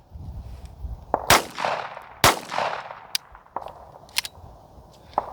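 Unsuppressed .22 rifle shots ring out at an outdoor range. Sharp cracks come at irregular intervals with some fainter pops between them, and a brief echo trails the louder reports.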